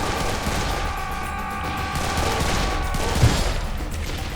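Gunfire in the Serious Sam 3 video game comes as a dense, loud barrage of rapid shots and booming blasts under a droning roar, with one sharper thump near the end.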